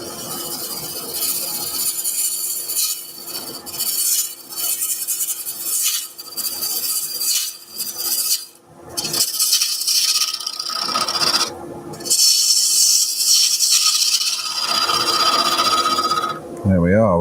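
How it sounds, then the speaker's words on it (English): A wood lathe spins a pencil crayon epoxy resin blank while a bowl gouge skims it down to a cylinder, giving a close, continuous rasping scrape over a steady motor hum, with a few brief pauses in the cutting. "turn the lathe on. And we're going to start just by using the bowl gouge"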